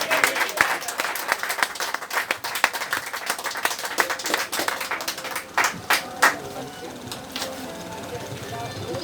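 A church congregation at a miracles conference applauds in praise with dense, sustained clapping that swells and thins over several seconds, a few sharper claps standing out near the end.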